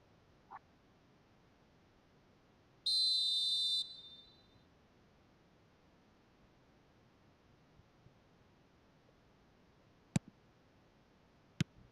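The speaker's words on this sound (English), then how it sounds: "There's the whistle, and here we go." A referee's whistle starts a match in the eFootball video game: one sharp, bright blast lasting about a second over a quiet background, followed later by a few faint clicks.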